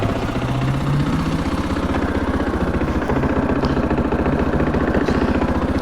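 A brand-new 2021 KTM 500 EXC dirt bike idles close by, its single-cylinder engine thumping in a fast, steady, even rhythm with no change in speed.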